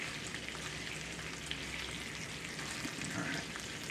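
A pork roast sizzling as it fries in a pan, a steady dense crackle and hiss that continues evenly throughout at moderate loudness, with no talking.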